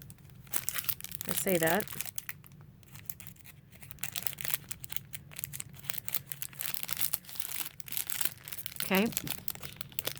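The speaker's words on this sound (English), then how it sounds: "So I think I can easily cut this open." A crinkly plastic package of paper guest napkins is cut and opened, giving close rustling and crinkling throughout, with brief scissor-like snips and a few spoken words over it.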